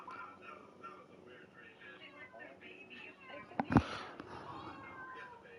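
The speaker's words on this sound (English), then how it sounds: "Hold on, there's a cat." A cat meows amid ongoing game voices and background music, its short, loud cry rising clearly above the talk near the end.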